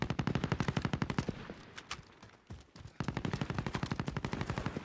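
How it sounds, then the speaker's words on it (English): Rapid automatic gunfire in Call of Duty: Modern Warfare, loud bursts of evenly spaced shots that pause briefly mid-clip before another long fast burst resumes. "Another dude shooting."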